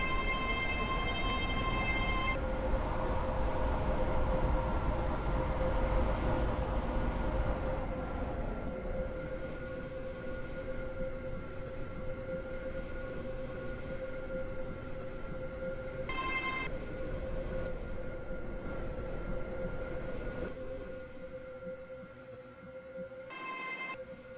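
A train rumbles and whines through an airport rail station, a loud running roar that eases after several seconds, with electronic tones and chimes sounding over it.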